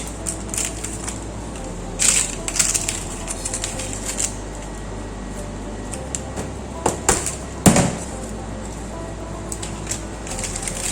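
Salt crust being cracked and broken away from a salt-baked trout, giving scattered crunchy snaps and cracks over a quiet kitchen background, with several louder breaks spread across the stretch.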